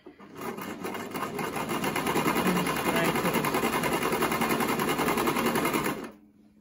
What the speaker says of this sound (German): Drehen und jetzt machen wir breitere Zickzack.